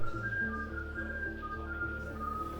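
A person whistles a steady, thin melody over low background music that continues throughout.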